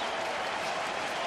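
Sellout baseball stadium crowd of about 41,000 at a Cardinals game, roaring and cheering steadily with the final out near, a dense, continuous wall of noise.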